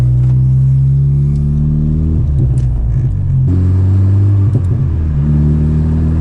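A K-swapped Honda Civic Si drives slowly around a parking lot, its engine rumbling loud and close as it revs up and settles back in several uneven swells, with no talking.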